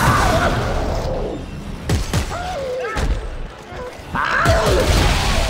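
Loud booming explosions and crashing blasts go off in bursts, with voices and other game effects mixed in, from the video game Dead Space 3.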